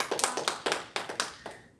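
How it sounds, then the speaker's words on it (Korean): A small audience at a family-life lecture gives a few scattered, uneven claps, about eight sharp separate hits over under two seconds, close and moderately loud rather than a full round of applause. "박수 한번 쳐볼까요, 우리?"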